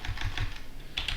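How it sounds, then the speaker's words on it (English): A quick burst of keystrokes on a computer keyboard types a short command. The clicks are close and clear, with a brief pause before the last couple of keys. "So if I type Podman"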